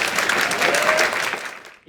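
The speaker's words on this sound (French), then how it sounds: "Applaudissez-le." Audience at an eloquence contest breaks into loud, dense applause welcoming a speaker, a steady roar of clapping that tapers off near the end.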